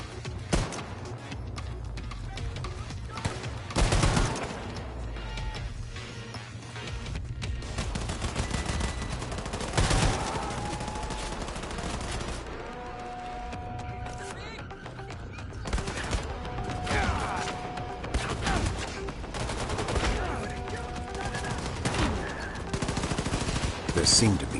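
An anti-aircraft gun fires in Wolfenstein II: The New Colossus, with rapid heavy bursts of gunfire in several loud clusters across the stretch amid game sounds and tonal effects.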